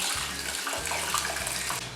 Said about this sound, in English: So now I'm going to add water to this.